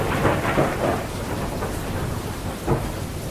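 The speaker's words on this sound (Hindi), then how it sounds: "देखते ही देखते बारिश" Heavy rain pours in a dense, loud hiss while low rumbles of thunder roll underneath throughout.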